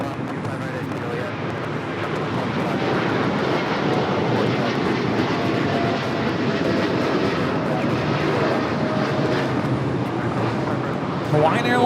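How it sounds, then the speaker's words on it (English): Hawaiian Airlines Flight 3 taking off from LAX for Honolulu: a loud, sustained jet engine roar that stays strong and steady throughout, with no voices over it. "Hawaiian Airlines Flight 3 taking off to Honolulu."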